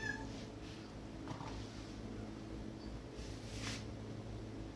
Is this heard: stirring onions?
no